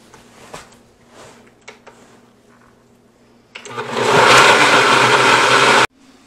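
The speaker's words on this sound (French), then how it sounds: "Réduisez le mélange en purée dans un mixeur." A countertop blender purees a hot broccoli cheddar soup mixture for keto soup. After a few quiet clicks and taps, the motor roars up loud and close for about two seconds, then cuts off abruptly.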